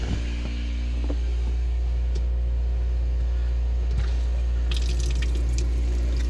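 Water draining from a travel trailer faucet as the lines are purged with air during winterizing, a steady close hiss and trickle over a constant low hum, with a few brief drips and spurts.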